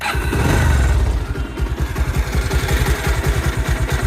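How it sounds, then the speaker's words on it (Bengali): A 2020 Bajaj Pulsar 150cc motorcycle with about 27,400 km engine revs briefly, then settles into a steady, rapid chugging idle close by. "এবার বাইকটার সাউন্ডটা শুনুন"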